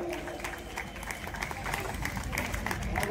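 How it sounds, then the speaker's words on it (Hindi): Scattered applause and clapping from a theatre audience after a stage play, moderately faint and steady, with a murmur of voices underneath. "तालियां हो जाए।"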